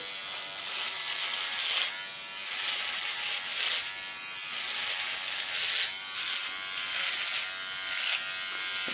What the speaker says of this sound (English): So with that, I'll start shaving away.